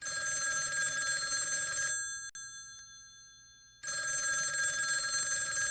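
A telephone rings loudly on a bedside table at night, a bright electronic trill that sounds for about two seconds, falls silent, then starts again.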